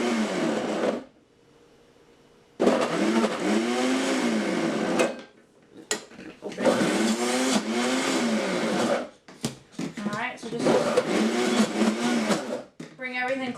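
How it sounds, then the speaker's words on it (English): Ninja Foodi blender running its smoothie cycle on a chocolate strawberry banana protein shake, loud pulsing motor bursts that rise and stop in repeated cycles, with a person talking in the pauses. "let's go ahead and do the Smoothie Cycle"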